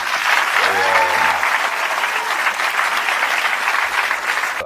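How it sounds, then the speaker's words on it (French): Loud, dense applause from a theatre audience during a comedy show, a continuous roar of clapping with a brief voice rising over it near the start, then steady clapping to the end. "donc on peut les applaudir"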